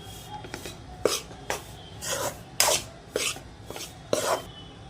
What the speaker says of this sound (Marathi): आता याला चांगलं आपण परत त्या तुपामध्ये चांगलं आपण हलवून घेऊया